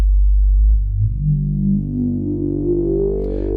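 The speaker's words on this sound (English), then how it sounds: "you can clearly hear now that the filter is grabbing the harmonics" A low tone from a Manatee synthesizer with a sharply resonant filter sweeps upward, its whistling peak gliding higher over a few seconds.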